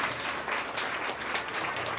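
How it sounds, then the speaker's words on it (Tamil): Applause from an audience at a women's day event, a dense, fairly faint patter of clapping hands that continues steadily, with no talk over it. "இங்கு ஒரு கைத்தட்டல்."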